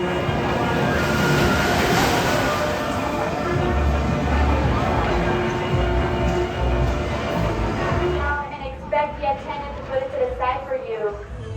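A loud, continuous roar and rattle of the Mine Train coaster at Six Flags Great Adventure on its track, then the rumble drops away, leaving voices chattering.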